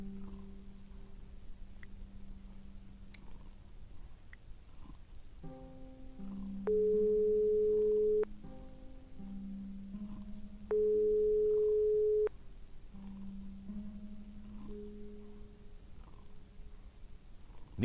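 Repeating busy-signal tones from an unanswered phone call in the video game Broken Sword 5: Serpent's Curse, steady pulsed beeps at a moderate level over faint background music, with no talk.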